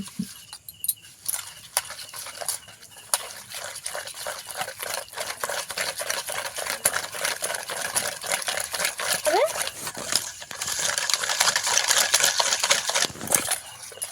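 Water added to cauliflower chop batter and mixed by hand in a bowl, a continuous wet patter and slapping stir that grows busier and louder toward the end, close up.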